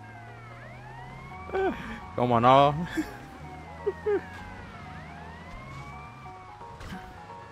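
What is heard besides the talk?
police car siren in the video game Grand Theft Auto Vice City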